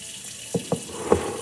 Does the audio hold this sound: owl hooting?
no